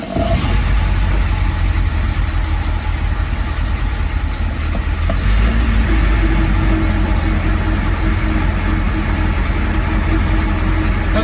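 A Triumph TR7 engine with the choke pulled out fires up and idles roughly, then revs up, running loud and close for the whole stretch with a steady low rumble and a shift in pitch partway through.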